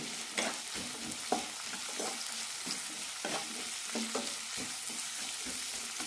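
Onions, green chillies and curry leaves with a little salt sautéed in a pan: a steady soft sizzle with repeated scraping and clacking stirring strokes at close range, no voices.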